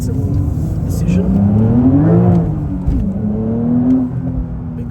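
A 2022 Porsche 992 911 Sport Classic with a detuned turbocharged engine, rear-wheel drive and manual gearbox, accelerating hard with engine pitch rising and falling through gear changes, heard from onboard as a steady, loud drone.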